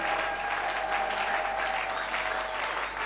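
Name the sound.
congregation applauding and cheering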